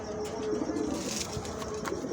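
Soft, low pigeon cooing runs steadily through the clip against a faint background hum, with no voices.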